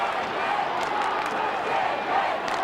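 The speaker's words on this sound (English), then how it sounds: "Very big crowd here now. Huge atmosphere." A big crowd at a 1997 AFL qualifying final between the Bulldogs and Sydney, a dense sustained roar of voices and cheering that fills the stadium, steady and loud throughout.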